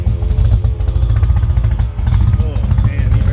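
An engine with a freshly rebuilt carburetor and new fuel lines runs at a loud, rough idle with a steady low rumble and slight clatter, heard up close.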